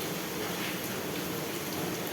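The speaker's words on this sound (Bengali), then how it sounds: "এই তো বৃষ্টি হচ্ছে, এই তো বৃষ্টি হচ্ছে।" Rain falling outdoors, an even, continuous wash of patter and hiss at moderate volume throughout, with no voices or other sounds on top.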